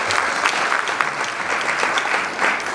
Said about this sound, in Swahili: Tumpige makofi pia